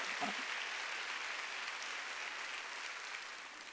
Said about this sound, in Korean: 박수 치려면 세게 쳐야 됩니다.